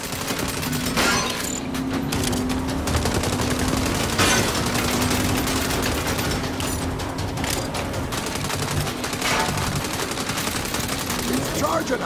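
Continuous, dense gunfire from the Saints Row reboot video game, with rapid automatic bursts and repeated shots throughout, loud and near, mixed with engine-like rumble and shouted voices in the game.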